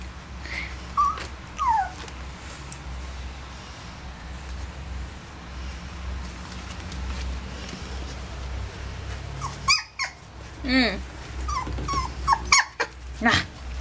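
A dog growls low and lets out several high whimpers and whines, close by against a quiet room hum, with a brief human voice near the end.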